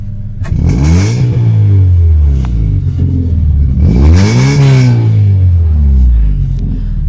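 Car engine revved hard through a freshly fitted exhaust, two loud rising and falling revs, each climbing then dropping back to a steady idle rumble, close and alone.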